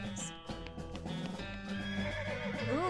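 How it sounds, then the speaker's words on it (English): Horse in the video game West of Loathing whinnying loudly with a rising and falling neigh, accompanied by clip-clopping hooves, close and clear over a musical backdrop. "Ooh, you see the dark horse."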